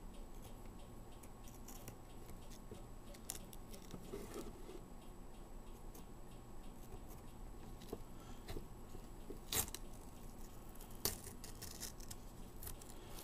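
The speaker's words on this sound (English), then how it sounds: "So I go around the lens with an X-Acto knife." An X-Acto knife cuts through tape around the lens of a trail camera, giving faint, scattered scraping clicks and a few sharper snips over a low, steady background hiss.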